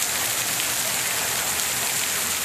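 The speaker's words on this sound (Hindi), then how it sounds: "रात गए वस्ती पंजाब के कई शहरों में भी तेज बारिशें हुई" Heavy rain pours down in Punjab, a loud, dense and unbroken hiss of falling water filling the scene with no voices.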